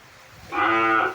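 A dairy cow lets out a single loud, drawn-out moo close by after a brief quiet moment, on a farm during light drizzle.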